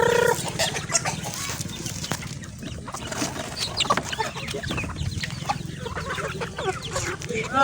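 Several chickens cluck and squawk continuously nearby, a busy overlapping chorus of short calls from a flock.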